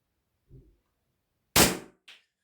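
A Combat Master Baba Yaga CO2 BB pistol by Crown Land fires a single sharp, loud shot with a short ringing tail, then a faint metallic ping a moment later. A soft thump comes before it, and otherwise it is quiet.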